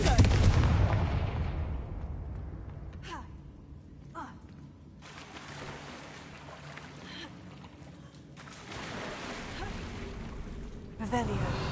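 A Confringo fire spell explodes in Hogwarts Legacy with a loud, booming blast at the start that decays into a rumbling tail, followed by quieter whooshing spell effects and ambient game sound.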